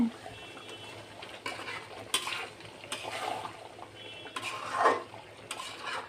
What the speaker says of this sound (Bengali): লবণ দিয়ে কিছুক্ষণ নাড়াচাড়ানি করবো